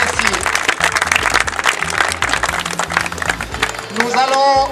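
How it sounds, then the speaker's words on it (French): An audience at a 2008 women's tennis tournament in Leysin claps for the Polish team, the European champions, with scattered loud applause mixed with voices and a brief whistle near the end. "Des applaudissements encore pour l'équipe de Pologne"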